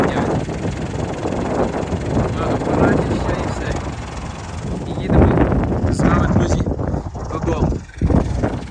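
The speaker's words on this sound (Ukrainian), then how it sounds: "Вітер насолов, холодрига, так треба втікати" Strong, cold wind buffets the microphone with a constant rumbling roar while someone talks over it outdoors in a field during spring sowing.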